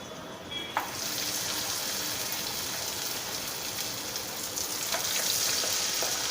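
Corn vadas frying in hot oil make a continuous crackling sizzle, moderately loud and close, with a few sharper pops and a small clatter early on, and no speech.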